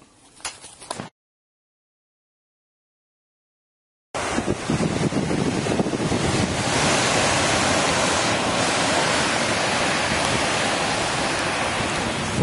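Ocean surf breaks on a beach at high tide as a dense, steady wash of roaring noise, loud and close, following a brief burst of sound and a few seconds of silence.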